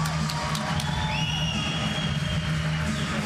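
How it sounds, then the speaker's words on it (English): An arena crowd cheering after a Bellator mixed martial arts fight at the Mohegan Sun Arena: a dense, sustained roar of cheers and whoops from a distance. "we'll hear this crowd"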